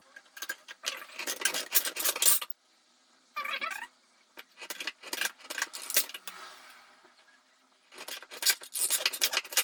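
Scrap sheet metal is cut for an enclosure, with bursts of close, crisp snipping and rasping in several separate clusters split by brief quiet gaps.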